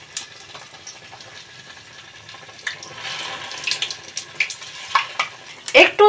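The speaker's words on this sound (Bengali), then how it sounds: "আমি আবার একটা ভেজে তোমাদেরকে দেখাচ্ছি" Palm fruit malpua batter frying in hot oil, a soft steady sizzle with light scraping and stirring clicks that grow busier toward the end, close by with no talk.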